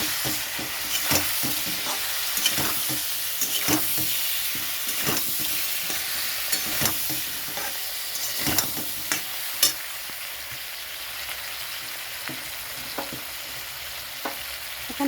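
Katla fish curry masala with tomato, green chilli and cumin paste frying in a pan, a steady close sizzle with repeated sharp scrapes and knocks of a spatula stirring.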